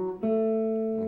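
A guitar plays a minor pentatonic scale, a few clear sustained notes ringing out alone after a brief softer attack, close and moderately loud.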